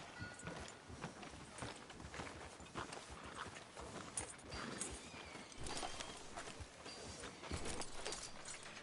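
Horse hooves clip-clop at a walking pace, faint and steady, with a muffled, busy background, in the video game Red Dead Redemption 2.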